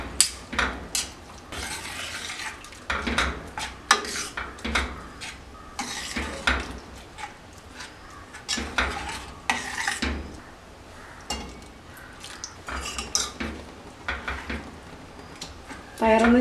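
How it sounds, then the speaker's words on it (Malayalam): Green gram curry with coconut milk is mixed in a pot, spoon knocking and scraping the metal in uneven bursts, close and moderately loud, with a faint low simmer beneath. "ഇതൊക്കെ നന്നായിട്ട് മിക്സ് ചെയ്ത് കൊടുക്കുക"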